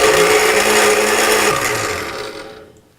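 Kitchen blender whizzing chimichurri made with olive oil and red wine vinegar, a loud steady whirring grind with the motor pitch dropping near the end as it winds down and stops, heard alone.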